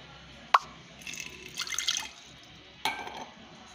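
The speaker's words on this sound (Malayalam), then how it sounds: "കുക്കറിൽ കുറച്ച് വെള്ളം ഒഴിച്ച് വേണം നമ്മൾ പാത്രം ഇറക്കി വെക്കാം" Water is poured into a pressure cooker with a sharp drip-like clink at the start, a soft gurgling pour in the middle and another clink near the end, all quiet and close.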